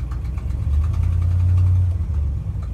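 A 1972 Ford F250 idles with an exhaust leak, giving a loud, steady low rumble with a faint ticking puff running through it and a slight swell in the middle, heard close up without talking.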